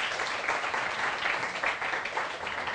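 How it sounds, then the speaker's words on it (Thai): Moderately loud applause from a classroom of students clapping for a classmate, a continuous uneven patter of hands that fills the whole stretch. "ปรบมือให้เพื่อนด้วยค่ะ"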